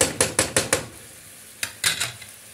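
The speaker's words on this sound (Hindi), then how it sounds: "इसको थोड़ा सा चलाएंगे ताकि इसमें मिल जाए टमाटर और प्याज आपस में।" Tomatoes and onions are stirred in a frying pan, a quick run of five rhythmic metallic scrapes and knocks over a soft sizzle, a pause, then a few more scrapes.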